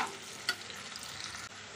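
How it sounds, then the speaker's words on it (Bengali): A pan of new small potato curry (aloo dum) is stirred. Soft scraping and a faint sizzle come through quietly for a moment, with one brief clink near the start. "একবার ভালোভাবে নেড়ে দেবো"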